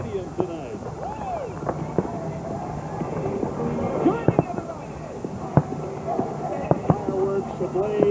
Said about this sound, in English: Fireworks ablaze behind the stadium, above the stadium, and within the stadium.